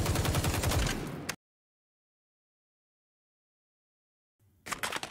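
An ACR rifle fitted with a muzzle booster fires a rapid, loud automatic burst in the video game XDefiant, then cuts to silence before a second burst starts near the end.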